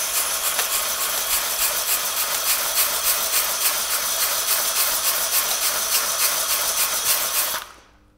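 A rotating hone works the cylinder bores of a VW VR6 engine block from a Golf 2 turbo build, a loud steady abrasive hiss with rhythmic rasping that cuts off abruptly at the end.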